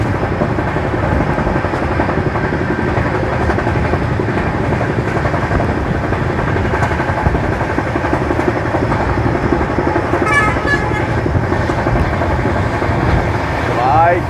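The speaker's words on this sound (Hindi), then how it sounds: "और ये ट्रेन हमारी फुल स्पीड में" Double-decker express train on the Jaipur to Delhi run at full speed, heard from inside: a loud, steady rumble and roar with continuous rattling, and a brief squeal near the end.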